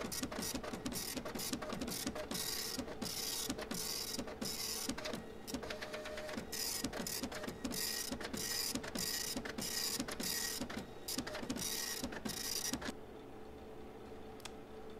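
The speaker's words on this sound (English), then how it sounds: "We have a printer here!" A printer in the FNAF game Printing at Fredbear's churns out a page with a dense, rapid train of mechanical clicks and whirs. The sound runs loud and steady before dropping to a quieter hum at the end.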